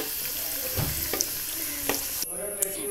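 Poovada fries in hot oil with a steady close sizzle, brief stirring scrapes and clinks breaking through now and then, and no voices.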